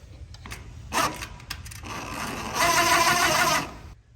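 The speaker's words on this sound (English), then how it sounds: "We'll put a heavy stainless screw in there gently" A heavy stainless screw is driven into pontoon boat deck trim, with a few short clicks and taps first and then a close, sustained grinding whir from the driver that ends abruptly, with no talking.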